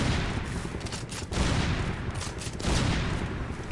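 Gunfire fills a match of the video game Primal Carnage Evolution, a dense barrage of shots and booms from several weapons, loud and continuous, with no single distinct shotgun slug round standing out.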